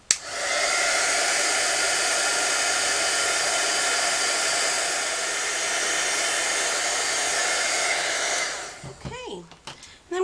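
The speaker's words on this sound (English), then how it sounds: "Then I'm going to use my heat tool to melt that embossing powder." An electric heat tool blows a steady, loud rushing whoosh for about eight seconds to melt black embossing powder, then switches off and leaves brief faint rustles.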